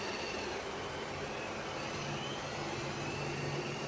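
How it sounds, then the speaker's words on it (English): A eufy X10 Pro Omni robot vacuum and mop running, a low steady whirring hum with a soft even hiss, quiet and continuous with no talk. "check out the new vacuum"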